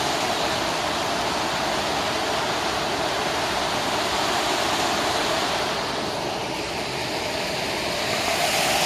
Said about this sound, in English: that's a nice little creek.